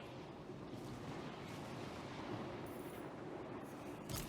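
Battle gunfire in the strategy game Total War: Warhammer 3 comes as a faint, dense, continuous rumble of massed shots and cannon blasts, with no clear separate reports.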